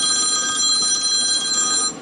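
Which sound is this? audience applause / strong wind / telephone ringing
telephone ringing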